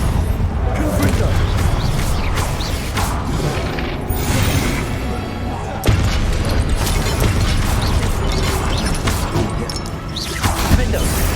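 Fiery Confringo spell blasts in the video game Hogwarts Legacy make dense, roaring bursts and booms layered over constant game action noise, loud and close throughout with several sharper impacts.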